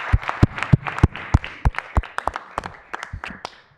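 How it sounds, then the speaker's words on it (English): A small audience at a county board meeting claps for OCHN in scattered, uneven bursts, with a few loud individual claps standing out before the sound thins and fades near the end. "Another round of applause for OCHN."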